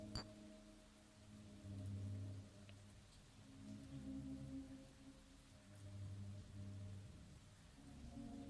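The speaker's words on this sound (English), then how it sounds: "I have no idea why the rain is falling through the plastic." Rain pattering steadily in the voxel video game Lucid Blocks, falling through plastic blocks; a faint continuous patter layered over soft low ambient music tones that swell and fade, with no speech.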